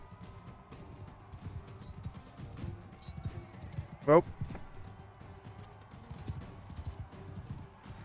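Galloping horses in the video game Mount and Blade II: Bannerlord give a steady clip-clop of hooves, fairly quiet and continuous, with a single short exclamation from a voice partway through.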